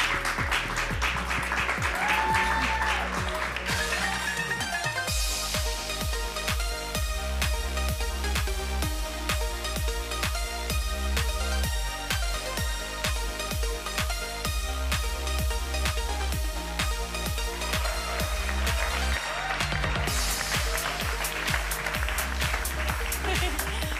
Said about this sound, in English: Can we give a big round of applause to Kikkan Randall?